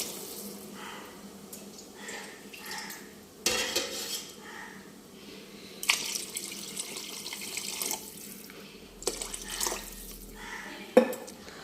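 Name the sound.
water poured into a pot of rice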